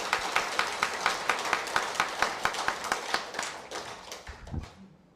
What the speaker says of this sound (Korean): 딱 맞는 노래를 해준 합창단께도 큰 박수 보내드립니다.